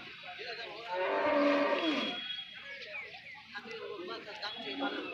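At a cattle market, a Sahiwal cow gives a long, resonant moo close by, with people talking over the crowd noise of the market.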